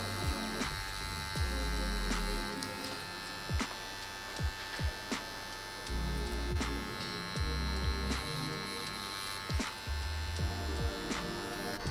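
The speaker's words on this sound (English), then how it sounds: "fill in the area with the 9-round shader needle using small circular motions" A tattoo machine fitted with a 9-round shader needle buzzes steadily at close range while filling in an area on real skin, with brief pauses, sharp clicks and a few low thumps.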